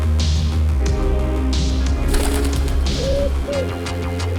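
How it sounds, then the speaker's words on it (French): A pigeon coos a few times as a sound effect in an audiobook, the soft throaty calls sitting over a steady low background bed, with no talk. "Puis un pigeon s'est posé à ses côtés."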